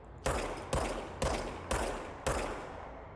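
A service weapon in a video game fires five loud, evenly spaced shots, each followed by a long reverberant tail.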